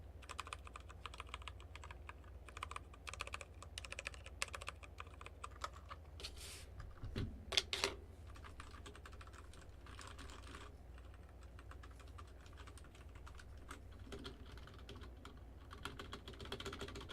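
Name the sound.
typing on a budget mechanical keyboard with RK Red switches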